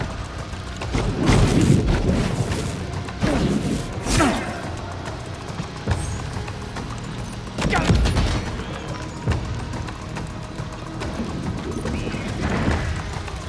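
Gunfire rings out during a firefight in the video game Death Stranding 2, several sharp cracking bursts spread across the stretch with rumbling echoes between them, under battlefield ambience and shouted voices.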